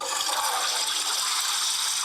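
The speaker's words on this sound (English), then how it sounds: "replicate the sound of a flashing toilet wherever you go" A phone app plays a toilet flush, a loud rushing hiss of draining water that holds steady for about two seconds with no voices.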